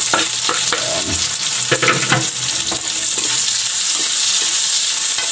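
Onions tipped into hot oil in a pan while making adobong tuna, a loud continuous sizzle and hiss of frying close up, with spatula stirring scrapes over the first few seconds.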